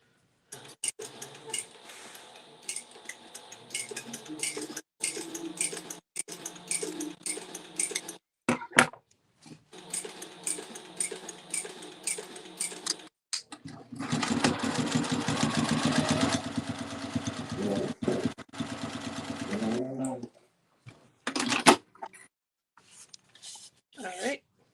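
Sewing machine stitching across the bottom of a crossbody bag, a steady close whirring run in the middle with shorter bursts before and after, surrounded by handling clatter and talk.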